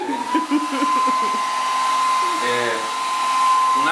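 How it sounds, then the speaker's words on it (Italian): A hair dryer whirs steadily at close range, a constant airy roar with a high motor whine, while a voice talks briefly at the start. "si prende un phon"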